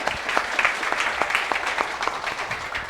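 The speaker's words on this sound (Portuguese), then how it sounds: "Uma salva de palmas." Audience at a health and spirituality seminar breaks into steady applause, a dense patter of many hands clapping for a few seconds with no talk over it.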